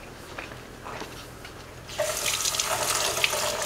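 Celery is rinsed under running tap water in a kitchen sink, a soft trickle that swells halfway through into a louder, steady splashing stream close by.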